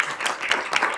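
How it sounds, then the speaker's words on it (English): Applause at a council meeting for a group of young ladies: steady, dense clapping from a room full of people, loud and close throughout, with no talking over it. "let's get a nice big round of applause for them as well"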